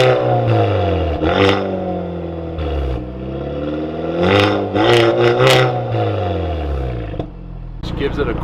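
A Hyundai Veloster N Sport's exhaust with twin pipes at the back. It revs up and down in repeated swelling sweeps over a steady engine drone, loud and close throughout.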